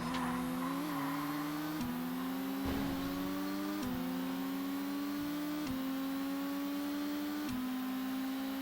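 Race car engine in ToCA Race Driver 2, a Seat Leon Supercopa with a worn engine, held at a steady high drone while sliding around a corner, with tire squeal and repeated gear-shift breaks in the pitch, loud and continuous with no talk.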